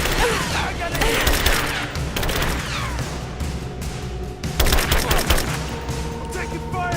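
Rapid gunfire from a Rise of the Tomb Raider battle, dense bursts of shots and booming impacts throughout with brief shouted voices mixed in.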